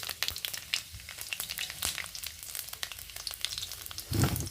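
Panch phoron spices crackle and sizzle in hot oil, a dense steady fry with scattered sharp pops throughout and a louder burst near the end.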